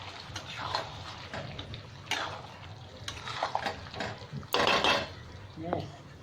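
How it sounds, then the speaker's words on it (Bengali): Chicken for kosha mangsho is stirred and fried in a pan, with a metal spoon scraping and clanking against the pan in irregular strokes over a faint, soft sizzle. Nobody speaks. "খুব ভালো করে এবার কষে নেব।"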